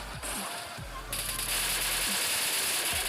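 Rapid automatic gunfire in a battle royale video game, loud bursts of rattling shots, close and continuous, with game effects and faint voice underneath.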